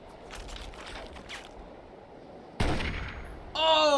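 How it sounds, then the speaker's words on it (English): Gunfire in Fallout 3: Operation Anchorage, a sharp loud burst cutting in suddenly midway after a stretch of quieter game ambience, followed by a louder ringing tonal sound at the end. "Who's shooting at me?"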